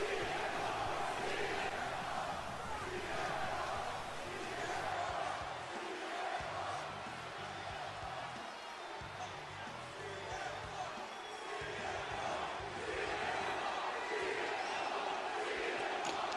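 Crowd noise from an arena in the WWE 2K23 wrestling video game, a continuous broad roar of cheering that swells and dips over the whole stretch, with no talk over it.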